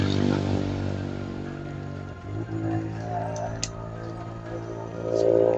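A motorcycle engine drones steadily nearby and then fades as it passes, with a low, rough tone and some faint background noise.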